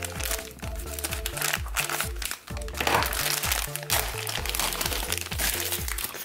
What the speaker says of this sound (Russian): И пакетик с деталями.